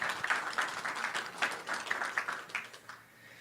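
Audience applause following a speaker's science presentation at a research update meeting, fairly quiet and distant, a steady patter of many hands that tapers off near the end.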